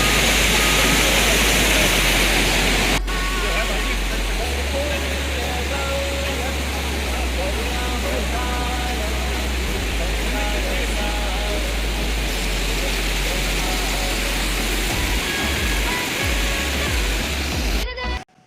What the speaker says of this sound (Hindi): ये जो आप झरना देख रहे हैं, ये झरना 100 मीटर की ऊंचाई से नीचे गिरता है।